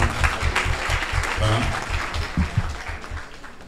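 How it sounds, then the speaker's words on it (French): An audience applauds at a literary event in Senegal, a lively burst of clapping that gradually thins, with a few voices mixed in underneath. "Je vous demande encore de l'applaudir très fort."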